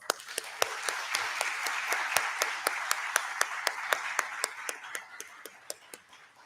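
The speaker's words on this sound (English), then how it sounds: "A round of applause, please." Applause at a university event in Chile, with individual claps standing out sharply over a softer general clapping that gradually thins and fades toward the end.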